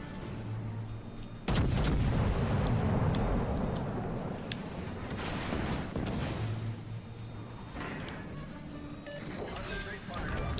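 Battleship main guns fire in the naval game World of Warships Legends, with a sudden heavy booming salvo followed by further deep rumbling shots and rolling echoes.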